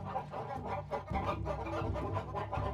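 Chickens, called cluckers, cluck in a steady, overlapping stream of short calls as an in-game sound effect in the video game Baten Kaitos, heard close and clear.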